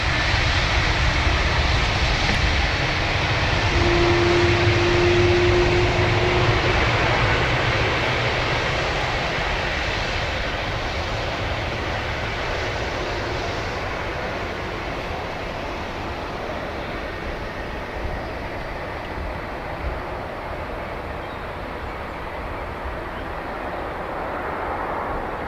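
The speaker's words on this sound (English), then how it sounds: "Lufthansa A321 Neo from Frankfurt" A Lufthansa Airbus A321neo arriving from Frankfurt and landing at Dublin Airport: a steady, broad jet engine roar close by that slowly fades as the aircraft passes.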